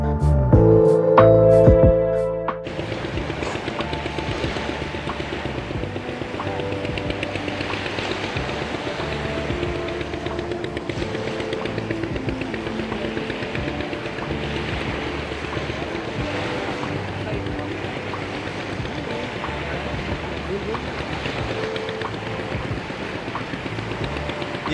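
A boat travels along the Godavari river near its meeting with the sea at Karavaka, its engine droning steadily beneath rushing water and wind noise, after a brief louder burst of music at the start.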